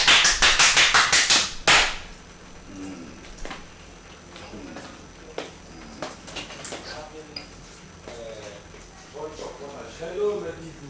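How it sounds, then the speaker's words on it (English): An audience at a master class claps in a quick, loud burst of applause that stops after about two seconds, followed by scattered taps and a person talking. "All clap for a small Atamo, Labako."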